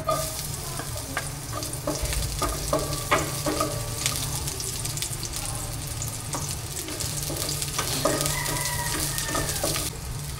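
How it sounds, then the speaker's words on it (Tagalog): Onion and ginger sauté in a hot pan with a steady sizzle, while a spatula stirs them in repeated scrapes and clacks. A rooster crows faintly in the background, and no one speaks. "Meron po tayong sibuyas at luya. Gisa na po natin."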